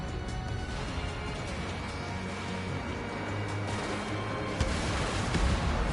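Bomber struck by a missile in Ace Combat 7, rumbling explosions and heavy booms over a continuous roar of engines, with a sharper blast near the end, loud and dense.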